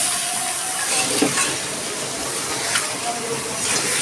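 Chicken pieces frying with browned onions for Dhaka-style chicken tehari, a loud continuous hiss and crackle with a few faint clinks of stirring, close up and without speech.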